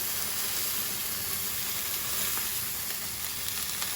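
Chicken pieces fry over high heat in a pan, giving a steady, loud, dense sizzle that runs unbroken throughout with faint crackles and no voices.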